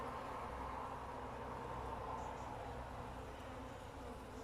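Honeybees at an open hive during an autumn inspection, a strong colony with ten full frames: an even, faint, continuous buzz with no breaks.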